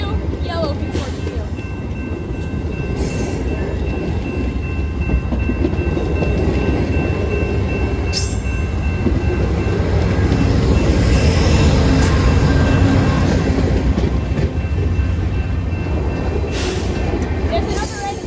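A blue P42 and a yellow P42 locomotive pass close by at Brockville, a dense steady roar of engines and rolling railcars lasting throughout, growing slightly louder midway; a voice talks briefly.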